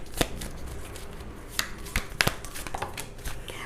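Tarot cards are shuffled and drawn by hand, producing a quick patter of soft riffles and sharp flicking snaps at irregular intervals, close-up and quiet with no talking.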